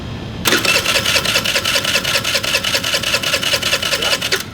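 A scooter engine cranks on its electric starter without catching, a steady rapid rhythmic churning that holds for about four seconds at close range, with no voices.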